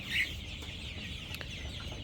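Sonali super hybrid chickens, 32 days old, in a poultry farm flock of about a thousand birds, give a faint cluck near the start over a steady low background hum.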